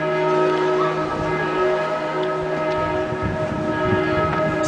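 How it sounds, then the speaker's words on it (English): Church bells toll in Salzburg's old town near the cathedral, ringing tones layered and sustained over a steady outdoor rumble, fairly loud with no voices. "The bells tolling in the background."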